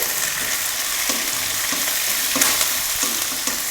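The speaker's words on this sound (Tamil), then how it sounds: "இப்போ இதை வதக்கிடலாம்." Onion, green chillies and curry leaves sauté in a hot pan with oil, giving a continuous close sizzle with occasional scraping stirs throughout.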